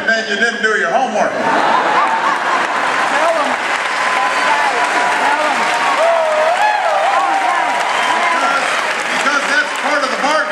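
A large audience cheers and applauds loudly and steadily, with laughter and whoops mixed into the sustained roar of clapping throughout.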